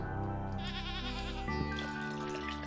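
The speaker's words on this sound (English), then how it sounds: "Sheep." Sheep bleating in the Stardew Valley farm game, a short wavering cry over steady background game music, moderately loud and continuous across the moment.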